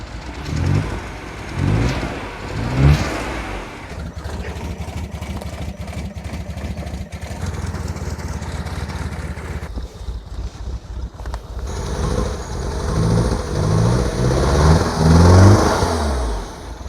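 A rebuilt Mini Cooper S with the N14 engine revving, the engine note swelling and falling through a few throttle blips, close and loud with wind noise over the microphone.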